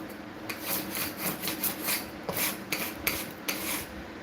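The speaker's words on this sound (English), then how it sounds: "And I'll try and scrape it." A hand scraper drags across a painted surface to lift old paint in short, quick rasping strokes, close and fairly quiet, with an uneven rhythm of scratchy pulls and brief pauses.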